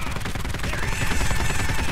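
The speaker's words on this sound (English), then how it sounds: "Oh, God. Clowns with shotguns." Clowns blasting shotguns in the isometric shooter Postal Redux, dense overlapping shots and gunfire crackling continuously and loudly throughout.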